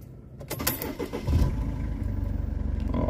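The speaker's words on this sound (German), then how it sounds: "Jetzt den Motor starte." A Mercedes engine turning over and catching, a short crank followed by a steady running rumble close by with no talk.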